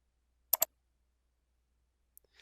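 A quiet computer mouse gives a quick double click, two sharp close clicks in near silence, followed by a faint tick.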